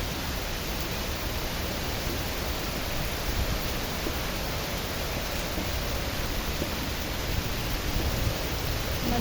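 Heavy rain pours steadily, a dense, unbroken hiss of water that stays loud and even from start to finish with no voices.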